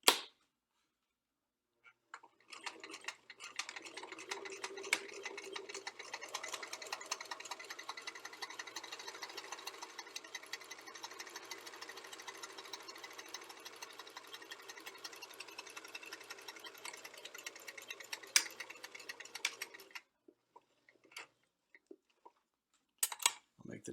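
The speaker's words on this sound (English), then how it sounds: "what I'm going to do is I'm going to run a seam right along here" A sewing machine runs a seam on a surgical mask, a fast steady rattling stitch held for about eighteen seconds after a short start, then stopping, with a few light clicks around it.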